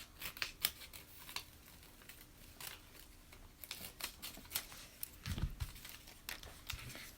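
Scissors snip through paper during an Easter art craft, faint close crisp cuts with light rustling of the sheet, repeated irregularly with no talk.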